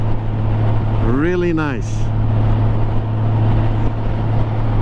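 Honda motorcycle engine running steadily at highway speed, around 70 mph, a smooth continuous drone heard throughout under wind rush, while a rider speaks briefly.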